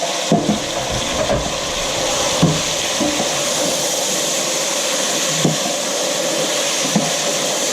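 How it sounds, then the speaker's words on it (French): Lamb pieces hit hot butter in a pot for a biryani and sizzle steadily, a broad continuous hiss with a few soft clicks and knocks of stirring, close and fairly loud with no talking. "je vais verser mon agneau dans le beurre chaud"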